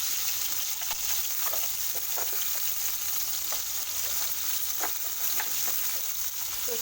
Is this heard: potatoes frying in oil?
yes